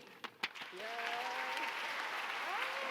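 An awards-ceremony audience breaks into applause welcoming the host, starting with a few scattered claps and swelling into steady, full clapping with faint voices underneath.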